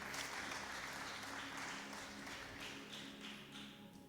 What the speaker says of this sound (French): Give a hand to Jesus.